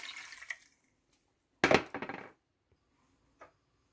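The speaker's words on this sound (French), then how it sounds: "Ensuite, je rajoute juste un peu d'eau" Water poured into a pot of fish soup, a short splashing burst of about three-quarters of a second, with fainter clinks and small sounds before and after.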